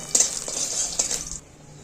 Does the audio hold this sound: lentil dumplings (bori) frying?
yes